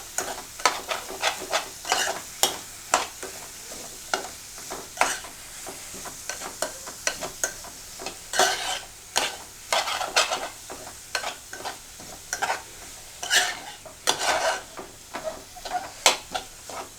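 Shallots and green chillies are stirred and scraped around a hot frying pan for a Kerala crab roast, giving steady, close rhythmic scraping and clatter over a soft sizzle, with no talking.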